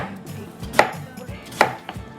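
A knife slices through potatoes on a cutting board in the kitchen, giving two sharp, close chops and a lighter third tap, with no talking.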